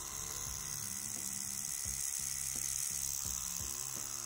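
CNC T4 rotary tattoo machine running at 5 volts, a steady, even electric buzz-hum alone, consistent and close, with faint low thumps underneath.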